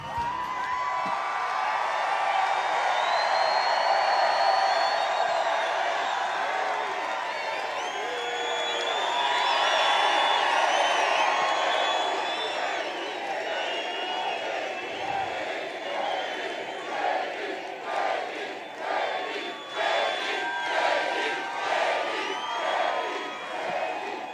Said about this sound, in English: What an amazing, amazing crowd.